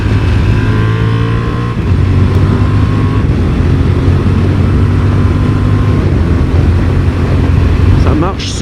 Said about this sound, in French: Et la sonorité du moteur, elle est dingue aussi.